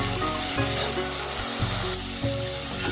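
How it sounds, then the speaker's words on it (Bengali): Spice paste frying in plenty of oil in a pan for a soybean and potato dish, giving a loud, continuous sizzle with a few brief stirring scrapes. "আমার মশলা একটু ভালো করে কষিয়ে নিই।"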